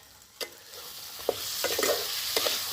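Spice masala for chicken butter tikka masala fries in a covered pan: a soft sizzle builds steadily, broken by a few sharp clinks and scrapes, close by with no talking.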